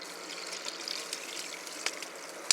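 Water mixed with magic sand poured into a container, a steady soft trickle and splash running throughout with small drips near the end, close by and without talk.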